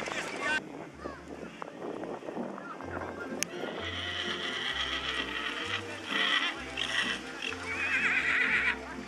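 A mare neighs loudly among the horses at a village carriage festival, with hooves clip-clopping and harness sounds under wind noise. Bursts of whinnying come in the second half while an announcer talks over the scene.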